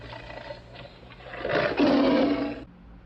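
A single deep, growling roar from a tiger in Thailand swells and fades over a few seconds, fairly close and loud.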